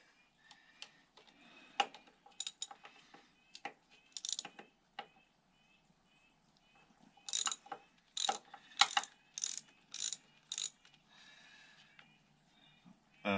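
Ratchet wrench clicking on a 10 mm bolt of a Honda XR200 motorcycle, close and fairly quiet, in several bursts of rapid clicks separated by short pauses.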